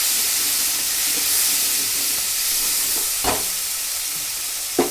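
Roasted moong dal stirred in a pan while making sweet-sour moong dal varan, with a loud continuous hissing sizzle and a few soft scrapes of the spoon against the pan.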